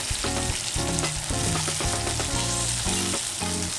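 Ribeye steak sizzling and spattering in a hot cast iron pan while being basted, with a dense, steady crackle and rhythmic clatter from the basting running throughout, with no voices.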